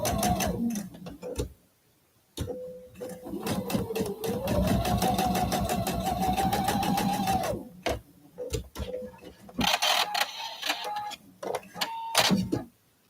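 A sewing machine stitching a quilt block seam, running in fast rhythmic bursts with a long steady run in the middle and short stop-start stitches toward the end, close and clear.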